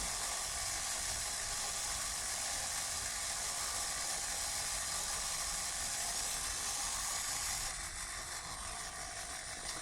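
An 8mm film scanner runs steadily, its mechanism whirring and hissing as film winds onto the take-up spool, a continuous even drone that shifts slightly near the end.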